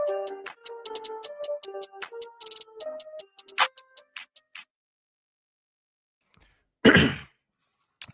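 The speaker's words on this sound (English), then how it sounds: "I unmute right when I'm about to clear my throat" A single throat clearing from a sports broadcast host, a short loud burst standing alone after a stretch of quick ticking clicks and a few seconds of near silence.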